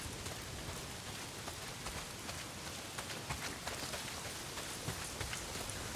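Heavy rain pouring down in the video game Days Gone, a dense, steady hiss of countless drops pattering on surfaces, with no voices.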